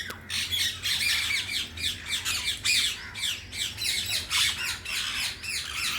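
Rose-ringed parakeets in a zoo aviary with wooden perches at Vandalur Zoo, Chennai, squawk loudly and continuously, with harsh overlapping calls repeating in quick bursts throughout and no talking.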